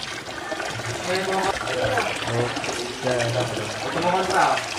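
Water runs steadily from a tap while something is washed in a home kitchen during tilapia frying, a continuous close splashing stream with people talking over it.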